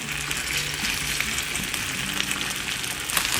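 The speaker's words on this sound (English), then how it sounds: "I don't turn it, I don't flip it over. I let it fry and get some brown color." Potatoes fry untouched on high heat in a pan, producing a continuous, even crackling sizzle with small pops throughout and no voices.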